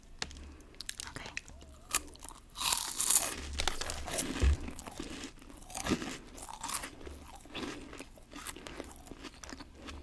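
Crisp bites into a chocolate cream filled wafer give close, crackly crunches followed by softer chewing, with occasional quiet speech in between.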